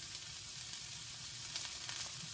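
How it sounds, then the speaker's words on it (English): Cooked whole wheat linguine goes into a pan of sizzling vegetables, producing a steady, close hiss of frying with faint stirring movements and no talking. "But I'm going to add my pasta to the vegetables."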